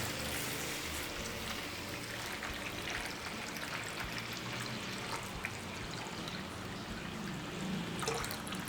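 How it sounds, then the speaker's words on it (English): Lukewarm water poured from a cup into a bowl of sugar and active dry yeast for bun dough, a soft, steady trickling stream that runs quietly for several seconds, with a slightly louder splash near the end. "Let's add 3 cups of lukewarm water to this."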